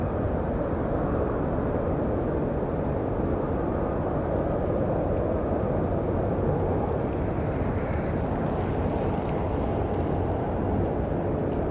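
A WestJet airliner at Sky Harbor Airport sends a steady, loud, broadband jet roar that holds for the whole stretch without letting up, heard from the ground at a distance, with no one talking.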